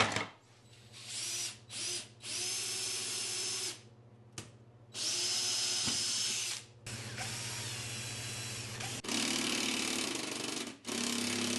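A power drill bores mounting holes for a 3D-printed fan shroud on an electric Jeep CJ5 conversion, several separate whining bursts of a few seconds each, broken by short pauses.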